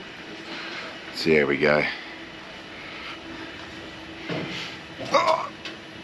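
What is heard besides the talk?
airplane engine while boarding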